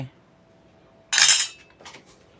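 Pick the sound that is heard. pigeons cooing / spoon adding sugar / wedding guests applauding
spoon adding sugar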